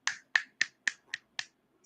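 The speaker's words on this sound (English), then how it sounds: "snaps and claps." Six crisp finger snaps in a quick, even rhythm, close and isolated against silence, each sharp and short.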